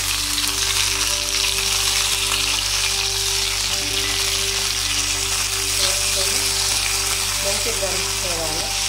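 Gangavalli greens sizzling in a hot pan with fried chillies, a loud continuous frying hiss up close, with stirring sounds and a faint voice near the end.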